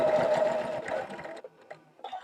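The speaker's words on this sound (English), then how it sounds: "And just a 1/4 inch seam stitched along." A sewing machine with a walking foot stitches a quarter-inch seam through quilt batting, a close, fast, even whir of needle strokes that stops after about a second and a half, followed by a few soft clicks and handling sounds.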